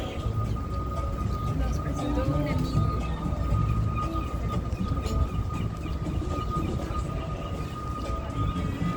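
The Milwaukee streetcar, the Hop, rolls past near a freeway in the Historic Third Ward, a steady rumbling rail sound with a sustained tonal whine, while people talk over it.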